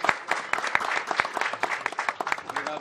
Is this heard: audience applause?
yes